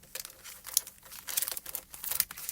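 Sheets of icicle craft foil crinkle and crackle as they are handled close by, in quick irregular bursts of sharp rustling with brief quiet gaps, with no talking.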